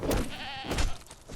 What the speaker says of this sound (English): You just decked a goat.